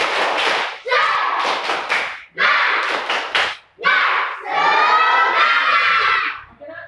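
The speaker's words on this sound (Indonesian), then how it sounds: "Ya, kita kembali berdiri dulu Nak. Ya, tepuk semangat." Schoolchildren in a classroom perform a rhythmic spirit clap, loud bursts of clapping in bouts separated by short pauses, punctuated by shouted chanting and a final collective cheer.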